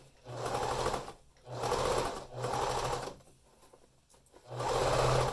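A sewing machine straight-stitches elastic onto a fabric mask, running in three or four close, loud bursts with short pauses between them.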